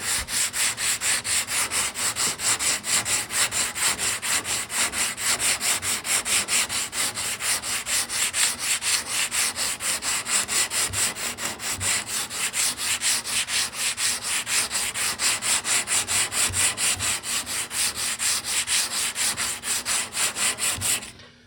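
Sanding block worked by hand across a car door, taking it down to bare metal: rhythmic, continuous back-and-forth scraping strokes at an even fast pace, close and steady with no talk.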